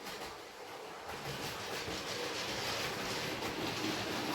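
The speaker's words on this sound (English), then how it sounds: "So here comes Billy with the circus train." A model circus train runs along a model railway layout, a faint, steady rolling rumble with soft continuous clicking throughout.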